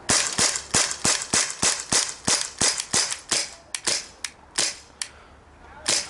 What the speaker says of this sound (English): So do some rapid shooting now.